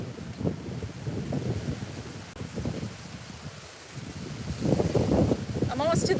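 Strong wind buffets a handheld microphone outdoors on the way to a beach, a rough, gusting rumble rising and falling throughout while a person talks over it.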